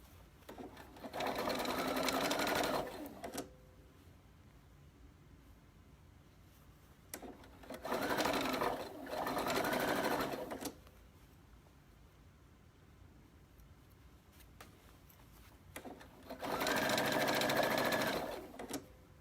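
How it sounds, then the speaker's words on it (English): A sewing machine topstitches a denim jeans hem in three loud, close bursts of rapid whirring stitching, each a couple of seconds long, separated by quieter pauses with faint handling noise. "Just doing a little top stitching here."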